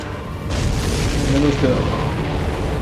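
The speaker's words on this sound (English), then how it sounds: "Did you see that explosion? Looks like that's one of them down." A supply ship explodes in the flight combat game Ace Combat 7, a loud sustained boom and rumble that swells and holds for a couple of seconds amid game noise.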